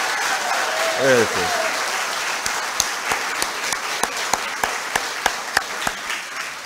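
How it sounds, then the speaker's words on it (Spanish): A crowd at a municipal mayoral candidates' debate in Upala breaks into full applause that thins out into a handful of scattered, separate claps, with a short spoken word near the start. "un aplauso para ustedes y uno para ellos"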